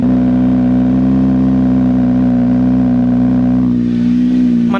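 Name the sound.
Kawasaki ZX-6R motorcycle with IXIL full exhaust starting and revving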